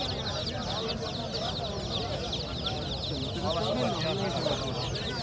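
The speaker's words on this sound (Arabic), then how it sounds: "أفراخ دجاج العرب" Many chicks of the Arab chicken breed peep continuously at a pet market in Babil, a dense chorus of high chirps with murmuring crowd noise and voices underneath.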